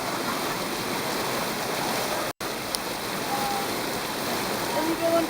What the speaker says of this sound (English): And you go under there, under the waterfall, lovely.